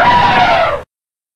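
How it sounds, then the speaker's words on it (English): An elephant call from an animal sounds app, a single loud, close trumpeting blast lasting under a second and cut off sharply. "Elephant."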